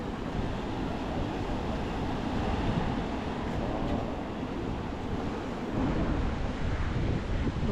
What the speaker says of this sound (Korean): 그 서핑을 타기에 예쁜 파도는 아닌 건가?